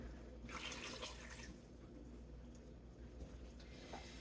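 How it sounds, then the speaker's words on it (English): A cup of water is poured into a pot for fig preserves, a soft splashing fill strongest in the first second and a half, then quieter trickling. "the first thing I'm going to put in here is my cup of water"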